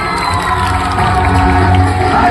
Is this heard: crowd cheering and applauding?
yes